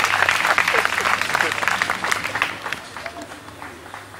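Guests at a wedding ceremony applaud and cheer together, a dense, steady wash of clapping with voices mixed in that gradually thins toward the end.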